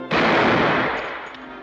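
A single loud gunshot from a 1949 western film, a sharp close crack with a long reverberant tail fading over more than a second, heard alone without talk.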